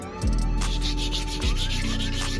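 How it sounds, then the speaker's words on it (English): Hand sanding of a car body kit part, rough rhythmic rubbing strokes with a couple of heavier low thumps, close and fairly loud, no voices. "No, I'll keep sanding my thing."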